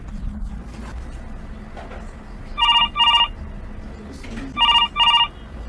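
A VoIP softphone rings for an incoming SIP call from an OpenVox UC200 IP PBX, giving two pairs of electronic double rings over steady background hum, with no talk.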